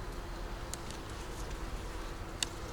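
Honey bees buzz steadily around an open double-deep five-frame hive holding stores and larvae, a continuous close drone with a couple of brief sharper ticks and no talking.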